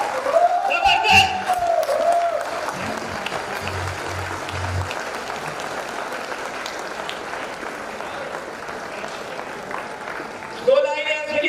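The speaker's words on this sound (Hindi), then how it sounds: "अश्विनी दानी जी के लिए जबरदस्त ताली दोस्तों" Enthusiastic crowd applause at a public event honoring a guest, steady clapping filling the room with a few voices and musical tones over it, swelling briefly at the end.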